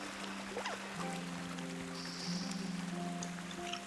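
Light rain sprinkling in Kingdom Come: Deliverance, a faint soft patter and trickle spread across the clip beneath steady tonal hums from the game's ambience.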